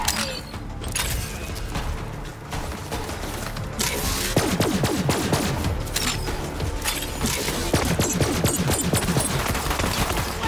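Rapid gunfire in the Borderlands 3 video game crackles in dense, overlapping bursts, close and loud. Mechanical clatter mixes in, and the firing grows heavier through the second half with barely a pause.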